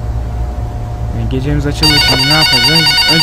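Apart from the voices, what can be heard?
telephone ringing in the Bloody Nights at Freddy's video game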